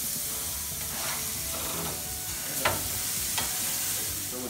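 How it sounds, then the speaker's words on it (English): Meat sizzles in a pan, a steady close crackling fry with a few brief scrapes and clinks of stirring, continuous throughout with no talk. "Love that sizzle sound."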